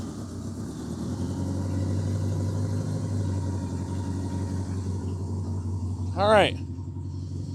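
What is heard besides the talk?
Honda Goldwing engine starting and warming up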